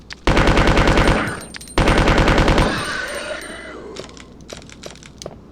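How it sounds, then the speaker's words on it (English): Machine gun firing in Resident Evil 2 on PS1, two loud rapid bursts of game gunfire with a short gap between them, followed by clattering and fading echoes. "the machine gun shreds the regular liquors"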